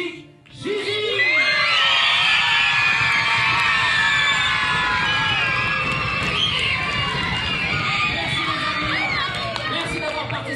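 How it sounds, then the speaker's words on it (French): A crowd of children at a live children's show cheers, shouts and screams in a loud sustained roar that swells quickly and stays strong throughout. "Et de crier encore plus fort pour la magnifique Gigi."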